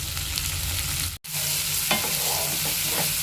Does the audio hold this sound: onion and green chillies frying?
yes